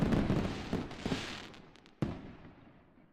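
Fireworks crackle and rumble in a dense broadband wash that fades, then one sharp bang rings out near the end and decays away.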